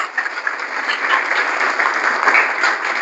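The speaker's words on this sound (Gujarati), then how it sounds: "આપણે સૌ તેમનું તાળીઓથી સ્વાગત કરીએ" A seated audience at an institution gathering claps steadily to welcome the arriving Balaji Gopi Mandal group, a continuous, even wash of applause with no talk.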